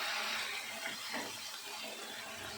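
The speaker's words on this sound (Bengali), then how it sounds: "অল্প একটু জল দিলাম" A little water poured into a pan of shrimp and taro stems, a steady close splashing trickle lasting the whole moment.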